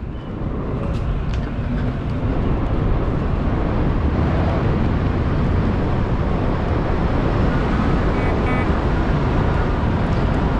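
Steady, loud rush of wind and road roar from riding an InMotion V12 high-torque electric unicycle at about 30 mph, continuous from start to finish with no pauses and no talking.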